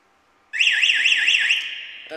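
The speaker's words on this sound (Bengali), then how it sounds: "অর্থাৎ 1150 থেকে অ্যালার্ম দেওয়া শুরু করবে" A marine engine's overspeed alarm sounds during a test-button check: after a brief quiet moment it bursts into a loud, warbling electronic tone that rises and falls about five times, then fades. A short faint chirp follows at the end.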